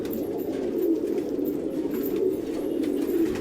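A group of pet pigeons being herded into their loft coos continuously, a dense low murmur of overlapping calls with a few clearer rolling coos rising about once a second, close by and steady.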